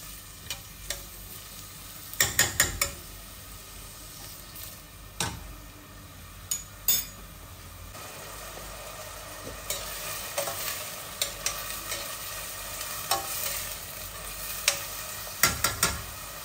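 Onions sizzle in hot oil in a pan with a soft, steady frying hiss, broken by close clicks and scrapes of stirring utensils at irregular intervals.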